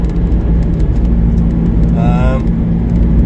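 Land Rover Freelander Td4 diesel under steady acceleration as the turbo comes in, a continuous low engine drone with a rising whine near the end of the stretch, heard from inside the cabin.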